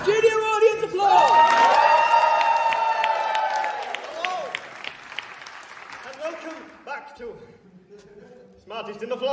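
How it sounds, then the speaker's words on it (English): Studio audience applause and cheering at a live comedy game show, loud and building with whoops over a whistle-like tone, then fading under voices toward the end. "And studio audience applause!"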